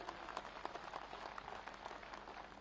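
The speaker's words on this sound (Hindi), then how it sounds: "हम एक बार जोरदार तालियां बजा करके उनका अभिनंदन करें।" A crowd at a welcome ceremony in Shimla honouring BJP national president JP Nadda applauds, with dense clapping that sounds faint and distant and keeps a steady level throughout.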